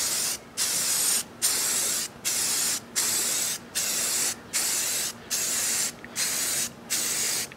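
A spray can paints a piece in ten short, even bursts of hiss, each lasting about half a second with brief gaps between them, close and steady.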